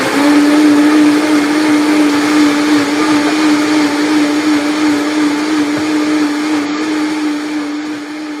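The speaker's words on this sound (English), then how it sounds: "So we'll just blend this up and then we'll strain off the coconut pulp." A blender blends coconut with liquid to make coconut milk. The motor whirs loud and steady the whole time and eases off slightly toward the end.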